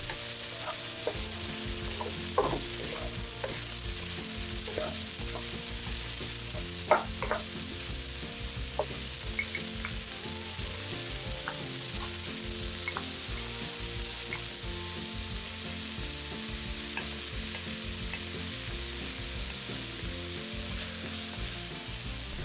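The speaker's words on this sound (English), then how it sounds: "Fry it for about a minute again and add the rice in." Onion, ginger, garlic and hot peppers frying in a pan give off a steady loud sizzle. Stirring clinks and scrapes come through now and then, and no one talks.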